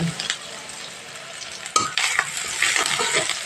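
Sliced onion fries in a pan with a soft continuous sizzle while a spatula stirs and scrapes now and then, quiet and close with occasional sharper clinks against the pan.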